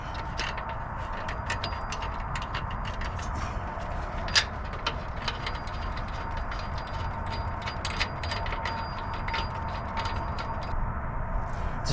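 A ratchet snugs a nut onto a suspension bolt on a 2020 4Runner TRD Pro, clicking rapidly and steadily for the whole stretch over a constant background hum of shop noise.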